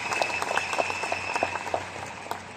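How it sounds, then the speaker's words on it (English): A seminar audience claps to thank a guest speaker: steady, dense applause, fairly loud and filling the room throughout, with no speech over it. "I hope we really have to give Joel Gamas a big round of applause."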